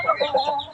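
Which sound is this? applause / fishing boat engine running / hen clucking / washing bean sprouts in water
hen clucking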